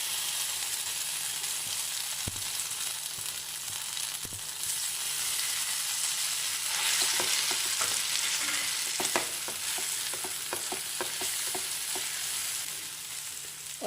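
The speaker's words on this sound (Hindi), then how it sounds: "और अब इसमें ये हरा चना डाल देंगे।" Green gram fries in refined oil with a steady sizzle, joined midway by a run of scraping, clicking stirs against the pan, close up with no voices.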